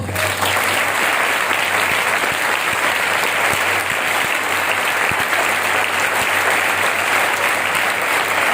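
A church congregation claps together in steady, dense applause, loud and sustained throughout with no break, close to the listener and with no clear voices rising above it.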